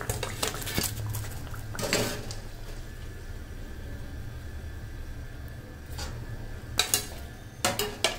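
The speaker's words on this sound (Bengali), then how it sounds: "এইভাবে আমি এখন সবগুলো পুরি ভেজে নিচ্ছি।" Puris frying in a large wok give a soft, steady sizzle, broken by sharp metallic clanks and scrapes of utensils against the pan at irregular moments, close up and with no talking.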